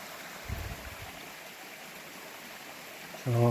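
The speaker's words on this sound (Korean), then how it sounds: "길게 이제 개울이 접해 있어서" A stream flows beside rural land in a valley, producing a steady, fairly quiet broadband rush of water throughout, with a few short louder bumps near the start and end.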